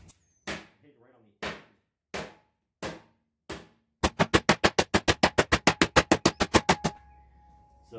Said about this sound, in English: what I'm trying to do with this mallet is stretch this aluminum out here